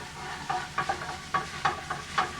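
Garlic and spinach sizzle and hiss in hot olive oil in a pan, a steady close frying noise broken by several short bursts of stirring.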